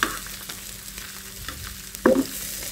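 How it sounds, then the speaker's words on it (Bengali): An egg fries in a small amount of oil in a pan and gets turned over, with a low continuous sizzle and a louder scrape and clatter near the end as it is flipped. "এখন আমি ভালো করে উল্টে পাল্টে আর একটা পাশ ভেজে নেব।"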